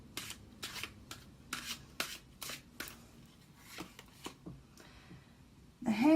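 Tarot cards are shuffled in a series of crisp, quiet flicks and snaps at an uneven rhythm, followed by a short louder rustle at the end.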